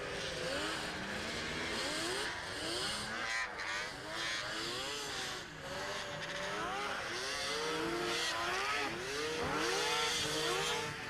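Racing snowmobiles at a 1994 Icelandic motorsport snowcross event, with several engines revving and whining up and down in rapid overlapping sweeps, loud and busy throughout with no talk.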